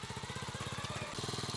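A learner's motorcycle moves off in gear on a village road, giving a close, rhythmic engine putter that briefly dips after about a second and then picks back up at a slightly quicker beat.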